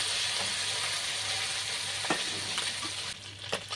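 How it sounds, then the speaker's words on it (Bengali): Vegetables such as potato, radish and pointed gourd fry in oil in a pan for a fish-head chhyachra, giving a steady close sizzle with a few soft stirring clicks and scrapes. "এবার সবজিগুলো আমি এর মধ্যে ভেজে দিচ্ছি"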